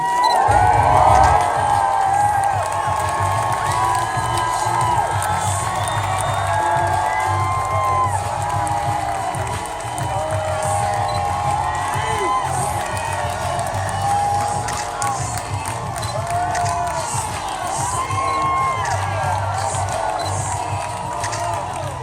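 A large crowd at a Hillary Clinton rally in Las Vegas cheers, whoops and claps in a loud, continuous roar, with shouts and higher voices poking through and a steady low rumble underneath throughout.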